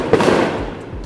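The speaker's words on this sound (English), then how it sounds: "there are fireworks literally 24/7 here" Fireworks going off in a Mexican town where they burst around the clock: a loud, sharp blast followed by a rolling, crackling rumble and echoing pops, close by, with no talking.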